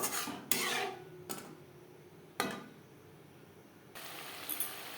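A few quick scraping strokes of a utensil stir salt, turmeric and red chilli powder in a pan for a Pabda fish curry, with short metallic rasps separated by quiet pauses.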